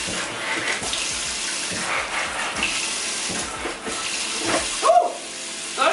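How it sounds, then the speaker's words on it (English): Tap water running and splashing over houseplant leaves in a sink as they are rinsed, a continuous close gurgling stream with irregular splashes and a brief shift in flow near the end. "now we're just gonna rinse off the leaf again"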